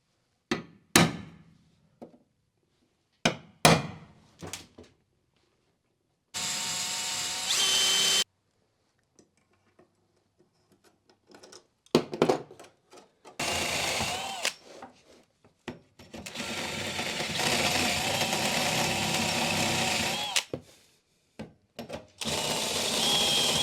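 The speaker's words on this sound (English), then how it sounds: "we're going to start drilling and bolting these down" Bursts of power drilling separated by pauses, with sharp hammer-like knocks and clanks as L-track is drilled and bolted into a van floor nearby.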